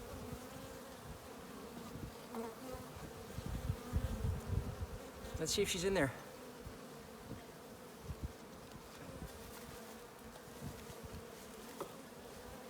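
Honey bees buzz steadily around a hive being fed sugar water, a close, continuous hum with individual bees droning nearer at moments; a person speaks quietly.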